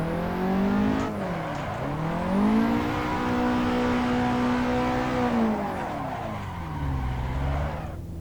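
Car engine and screeching tires in Assetto Corsa during an e-brake-initiated drift: a loud sustained howl that dips and rises in pitch with revs, tire squeal running steadily beneath, no talking.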